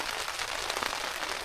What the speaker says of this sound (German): Wir merken gerade, es regnet rein.